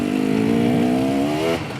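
An enduro motorcycle engine running steadily just after being restarted, a loud close idle with a rising hum and slight rev before it drops off near the end, no talking over it.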